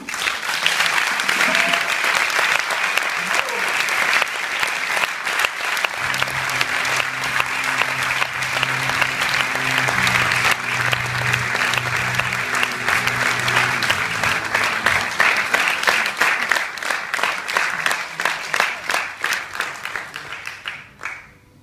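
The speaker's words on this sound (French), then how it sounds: "je vous demande d'applaudir et d'accueillir Madame Agnès Jaoui" Festival attendees applaud as a guest of honour comes on stage, heavy sustained clapping from a large crowd lasting about twenty seconds, with a low murmur and possible music underneath midway, before it thins and fades out.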